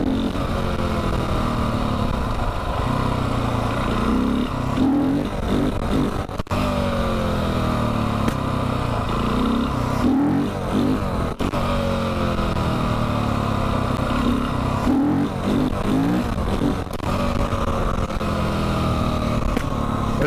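A supermoto motorcycle engine during low-speed wheelie practice, running continuously and close, rising and falling in repeated throttle swells with no talk.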